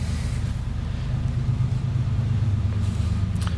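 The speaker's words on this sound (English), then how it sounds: "Let me let that train go by." A train rolls past outdoors near a parked 1986 Chevy C20 pickup, a loud, steady low rumble that holds at an even level for the whole stretch.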